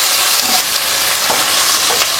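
Onions hit hot oil in a pan for a South Indian tempering and are stirred, giving a loud, close, steady sizzle with light scraping strokes throughout.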